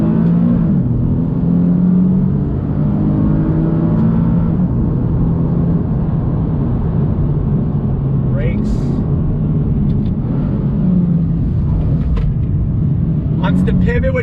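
A 2020 Nissan 370Z engine pulls back onto throttle after a downshift into second gear, a steady loud rumbling drone that holds throughout, with someone talking over it.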